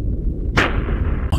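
A pistol shrimp's claw snaps underwater, making a single loud, sharp crack midway through, followed by a brief ringing decay over a low, steady background rumble.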